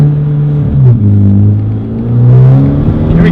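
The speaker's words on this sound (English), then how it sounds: "we're going to get a few clips of him rolling through the gear so you guys can see what this thing's like to be driven to its full potential" A 2013 Hyundai Genesis Coupe 2.0T turbo engine, loud and close, revving hard as the car pulls through the gears, the pitch climbing then dropping at each shift, with no voices.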